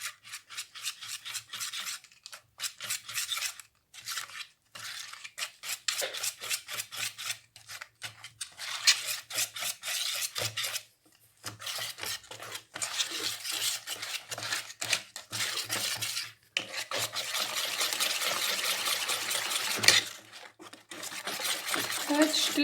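Orange basbousa batter stirred in a bowl, with steady scraping and rubbing strokes repeating close up over a long stretch, broken by brief pauses.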